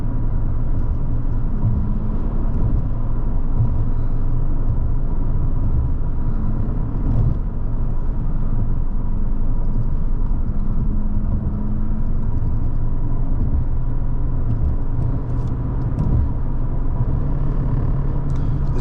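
Cabin of a 2003 Mercedes-Benz CL500 under way with light throttle: a steady, subdued low rumble of engine and road noise, constant and unbroken, with no talk.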